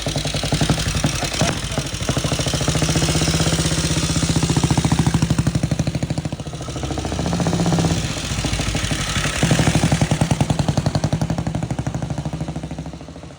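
A 1927 Norton Model 18 flat-tank motorcycle engine runs close by with a rapid, steady single-cylinder thump that rises and falls slightly as it revs, loud and alone.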